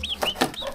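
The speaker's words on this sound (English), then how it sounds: "He's actually a rooster. He's going to grow up to be a rooster." A young pet rooster gives a few short, nasal clucks and chirpy calls, close by and fairly soft, spread over less than a second with no talking.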